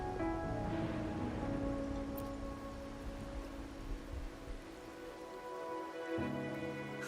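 Steady, dense rain patters on surfaces in the video game Wuthering Waves, with a soft tonal music bed beneath, continuous and fairly quiet with no talk.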